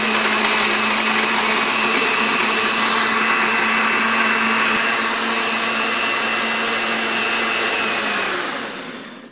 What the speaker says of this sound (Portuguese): Vamos ligar o liquidificador.